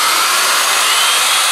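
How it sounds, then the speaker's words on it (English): A power drill runs steadily in reverse, driving a homemade Tesla turbine used as a water pump; a loud, continuous broadband whir with no voices. "I'm going to reverse the drill direction now. We're going to use it as a pump."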